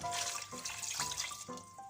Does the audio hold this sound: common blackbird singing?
no